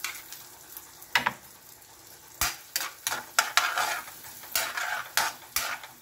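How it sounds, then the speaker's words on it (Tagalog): Garlic cloves crackle in a hot pan for beef shank stew, a faint sizzle punctuated by repeated sharp scrapes and taps of a utensil stirring close by. "ilagay na po natin ang ating bawang."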